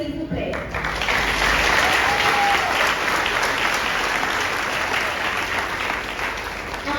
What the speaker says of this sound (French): Un grand applaudissement pour les parents de la salle et du monde entier, s'il vous plaît.